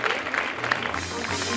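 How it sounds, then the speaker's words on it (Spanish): An audience claps together for a short burst that stays steady and fairly close, with a faint murmur of voices underneath. "si quieren pueden aplaudir"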